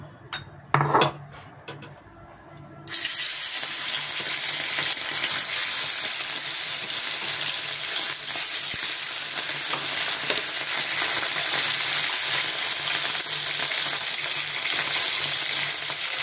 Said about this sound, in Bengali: তেলটা গরম হয়ে গেছে, দিয়ে দেবো একে একে মাছগুলি